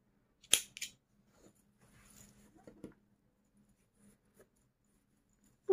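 Scissors cut knitting yarn in a couple of quick, crisp snips close by, followed by faint handling clicks in a mostly quiet space.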